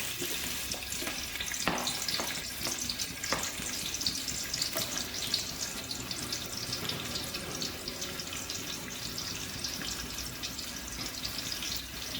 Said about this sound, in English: Add 1 cup oil. Let it heat up. Add 2 medium sliced onions.